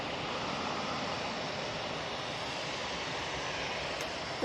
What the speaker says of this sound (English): Just coming up to Heel Green now, we have the Hainan. Coming in from Beijing